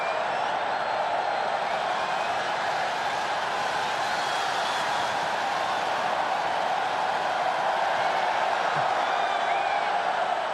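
A stadium crowd murmurs and roars in a dense, unbroken wash throughout, with scattered shouts and whistles, during an international football friendly between Spain and Ireland at Yankee Stadium.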